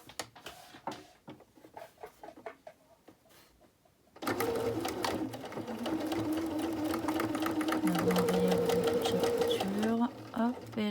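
A sewing machine stitches fabric for a face mask with a nose clip, starting after a short spoken stretch and then running as a continuous, close, steady mechanical whir with slight changes in pace.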